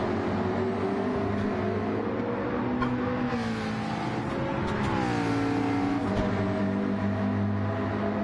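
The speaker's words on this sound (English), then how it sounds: "Frowney just ahead of Wayne G and Scott as they come through the chicane and across the line to start lap 12." Race cars in Gran Turismo 7 at Goodwood accelerate through the chicane and across the line, a loud continuous multi-car engine drone with rising and falling pitch as gears change.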